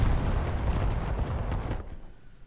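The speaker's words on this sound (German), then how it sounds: "Und das Ding explodiert sogar in der Luft." A rocket bursts in midair in the naval combat video game War Thunder, a heavy rumbling boom that rolls on for about two seconds before cutting off abruptly.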